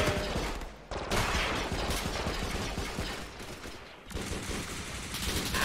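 A sci-fi weapon from a modded game fires in a sustained rapid stream of close, loud shots, broken by two brief pauses before the gunfire resumes.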